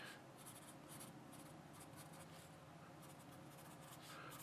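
A Blackwing pencil writes on A5 ruled notebook paper in a Kokuyo Systemic cover, giving a soft, steady graphite scratching with small bursts of strokes, close and quiet, with no talk.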